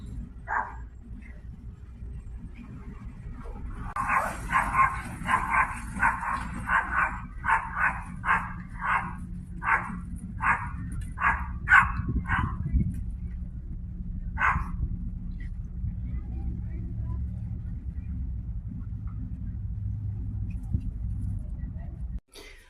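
Dogs bark outside on a front deck in a rapid string of sharp barks that slows toward the end, fairly close and loud over a steady low outdoor rumble.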